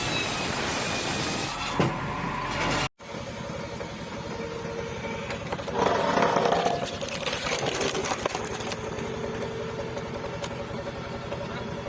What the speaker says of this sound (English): It is the sound of machinery, of labor in motion, a hydraulic